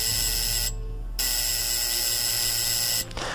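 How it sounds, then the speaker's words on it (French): A steady electronic buzzing tone holds, briefly cutting out and returning, over a constant low hum. "Un petit buzzer sortit le contre-amiral de ses rêveries."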